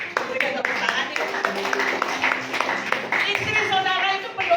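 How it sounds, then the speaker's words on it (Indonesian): Church congregation at a worship service breaking into applause, a steady patter of many hands clapping at moderate distance, with a voice speaking over it. "Berikan tepuk tangan ya."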